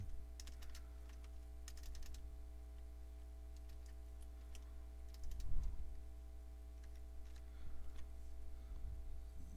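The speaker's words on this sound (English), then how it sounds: "Then type in your name, then hit Next. I'm going to type Win2K 2091." Fingers type on a computer keyboard while entering a name during a Windows 2000 Build 2091 setup in VirtualBox, with quiet scattered key clicks in short clusters over a low steady hum.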